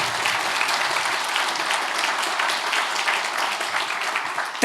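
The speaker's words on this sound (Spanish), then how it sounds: "Si le vas a dar un aplauso al Señor." A church congregation applauding during a sermon, steady dense clapping from a large crowd filling the room, moderately loud and unbroken for several seconds.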